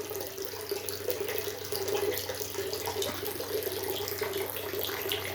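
Water pours steadily from a hose into a roughly 10 to 15 ton garden pool. The stream is continuous and even, with a close, constant rush that does not let up.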